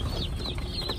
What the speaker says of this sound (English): that big box has all of our meat chickens in it